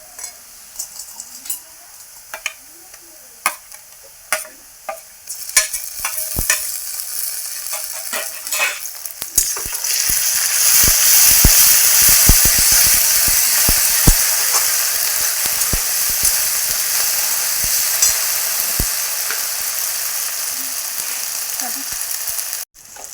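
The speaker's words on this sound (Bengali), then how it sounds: "পেঁয়াজটা ভালো মতো ভাজা হয়ে গিয়েছে, ওই মশলাটা দিয়ে দেবো," Onions fry in oil for soybean chicken. Light stirring clicks give way, once ground spice paste goes in, to a loud, sustained sizzle that holds steady to the end.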